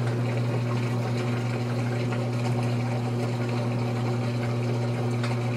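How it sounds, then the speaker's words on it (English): A GE Infusor high-efficiency washing machine, model GTWN5050M0WS, drains water with a steady droning pump hum and sloshing flow, continuous and close throughout. "It's draining."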